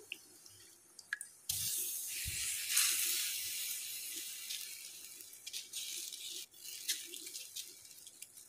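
Water dabbed onto a bhagar bhakri on a hot tawa, setting off a loud hiss that rises suddenly and fades over several seconds, with faint taps and no talking.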